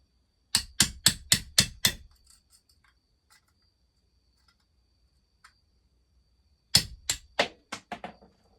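Sharp metallic hammer blows on a punch against a stuck part of a McCulloch Super Pro 81 chainsaw engine during teardown, a quick run of five strikes, a long quiet gap, then another burst of about five.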